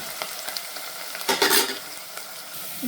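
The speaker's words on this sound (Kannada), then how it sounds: "ಅದು ಸ್ವಲ್ಪ ಫ್ರೈ ಮಾಡ್ಕೊಳ್ಳೋಣ" Onions fry in a pan for a poori sagu curry, a continuous bright crackle that swells into a louder spitting burst midway before settling back to a steady sizzle.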